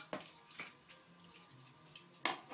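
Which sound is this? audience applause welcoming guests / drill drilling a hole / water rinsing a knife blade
water rinsing a knife blade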